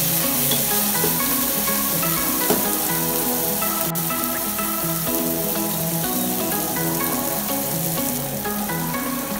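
Steady, close sizzling and crackling of onion and tomato frying in hot oil, with occasional stirring scrapes and no talking throughout.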